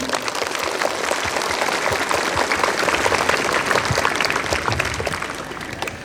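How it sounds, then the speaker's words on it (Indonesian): A crowd of pesantren students and guests at a National Santri Day ceremony applauds, a steady, full wash of clapping that holds evenly for about six seconds. "Tepuk tangan untuk seluruh santri"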